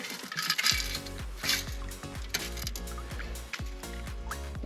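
A metal detector gives a rapid series of pulsing electronic tones over a coin, repeating warbles with a rhythmic beat, interrupted briefly by scraping and a faint clink.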